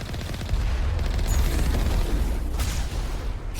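Gunfire from a vehicle's turret guns in the video game Mass Effect, a dense continuous roar of shots and booms, loud and steady throughout with no voices.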